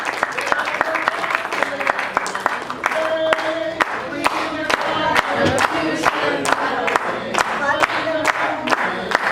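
A convention hall audience bursts into sustained applause with dense clapping, cheers and whoops, loud and continuous throughout, congratulating a member for joining a PAC plan.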